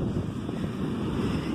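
Waves break and wash continuously on an open-sea beach at Farol de São Tomé, Campos dos Goytacazes, Rio de Janeiro, with wind buffeting the microphone in a steady, loud rumble throughout.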